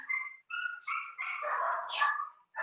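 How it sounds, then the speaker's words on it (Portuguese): Several dogs bark and yip excitedly in a backyard, a string of fairly close, short, overlapping barks with a whine or two mixed in, and no talking. "Minhas cachorras estão doidas aqui no quintal."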